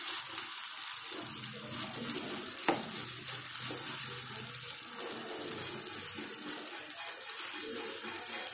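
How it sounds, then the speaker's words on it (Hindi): Mooli paratha batter spread into hot oil on a pan, a steady close sizzle with fine crackling and a brief scrape, no talk. "थोड़ा सा तेल डाल दिया, जिसमें हम ये बैटर डाल देंगे दो चम्मच"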